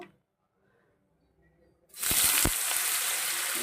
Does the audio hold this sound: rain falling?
no